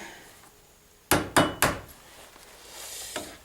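Three sharp hammer blows peen a rivet on a knife handle, close and ringing, evenly spaced within about half a second, then the room falls back to quiet with faint handling noise.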